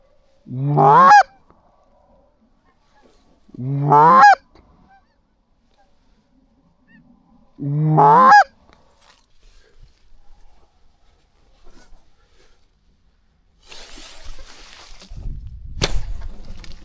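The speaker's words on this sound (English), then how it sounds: "First group of geese." Geese honk loudly in three separate bursts a few seconds apart, close and clear, followed by quieter rustling and a sharp whoosh and thump near the end during a bow hunt for flying ducks and geese.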